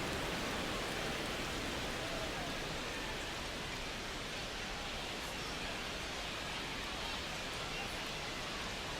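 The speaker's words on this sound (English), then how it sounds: "the field's not going to be able to hold up if the rain gets any worse than this" Steady heavy rain pours over a baseball field in MLB The Show 26, a dense continuous hiss with no breaks, loud and even throughout.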